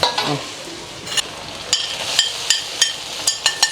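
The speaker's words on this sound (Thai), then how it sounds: "เราไปผัดกันกะเพราหมูยอ" Pork sausage and holy basil sizzle in a hot pan while a utensil scrapes and knocks against it in irregular strokes, close and fairly loud.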